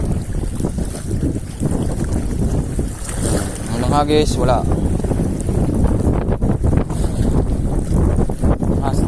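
Strong wind batters the microphone on a small fishing boat out on open water during an ultralight casting session, a loud steady roar throughout, with a man's brief speech partway through.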